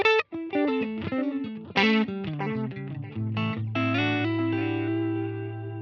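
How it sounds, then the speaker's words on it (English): A distorted electric guitar runs through a Helix with a touch of delay, playing a busy run of notes and chords that settles into a sustained low note with trailing repeats. "Sounds really nice with a little bit of delay on it as well."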